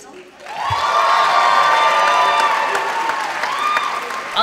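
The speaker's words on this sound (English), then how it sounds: "in front of a cheering crowd" A cheering crowd applauds steadily at a high school jazz competition, with broad sustained clapping and shouts swelling in after a quiet start and staying loud throughout.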